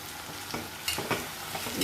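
Prawns, washed and coated with salt and turmeric, fry in a pan beside a small lemon wedge, giving a close, continuous sizzle punctuated by a few soft stirring knocks.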